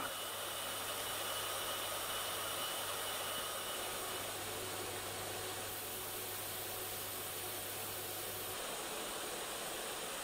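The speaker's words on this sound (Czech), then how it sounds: "5 odborníků naslouchá 30 různým vysavačům" A vacuum cleaner runs steadily with a broad whooshing hiss and a low motor hum that drops slightly near the end, with no voices.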